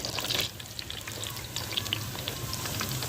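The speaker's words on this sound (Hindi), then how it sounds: "घी में पूरी को फ्राई करेंगे।" Puri frying in hot ghee in a kadai gives a steady bubbling sizzle, with scattered crackles and pops over a continuous hiss, close and moderately loud, with no talking.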